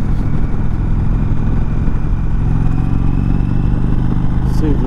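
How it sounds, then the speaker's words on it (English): A 2019 Indian Chieftain Dark Horse bagger motorcycle engine-braking on a twisty road, a steady loud low rumble of the engine running continuously up close, with no talking. "Little engine braking."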